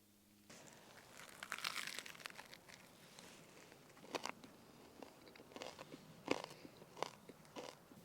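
Someone chewing and biting into a big sandwich at a woodland truck campsite, with close, irregular crunchy bites and mastication sounds and faint crinkling, fairly quiet and without talk.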